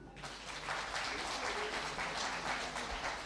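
Audience applause at a Christmas school concert, a steady wash of clapping from many hands that holds for a few seconds.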